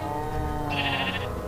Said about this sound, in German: Wo bist du, Schaf? Da bist du, Schaf.